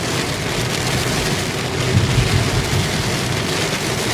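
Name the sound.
heavy rain from typhoon Crising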